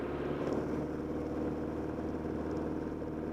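Piper PA-28-181 Archer III single-engine plane at full power on its takeoff roll, a loud, steady, close propeller-engine drone filling the cabin without pause.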